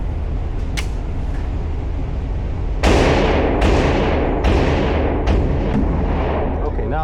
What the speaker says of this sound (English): Let me just do like a couple shots.